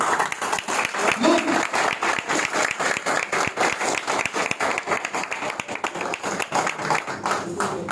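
Audience applause at a gathering, dense continuous clapping from a crowd sustained loudly throughout, with some voices mixed in.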